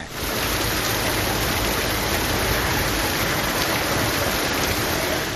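Heavy rain pours around Krishnagiri in Tamil Nadu, a dense, even hiss that holds steady from start to finish with no voices.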